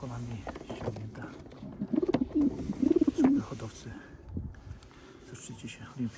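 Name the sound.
racing pigeons cooing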